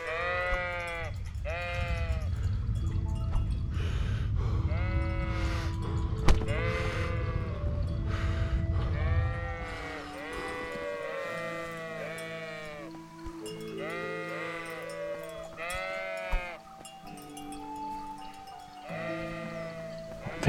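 Sheep in the video game Kingdom Come: Deliverance bleat repeatedly, loud and close, several overlapping calls over a low rumbling background that drops away partway through, leaving the bleats more exposed.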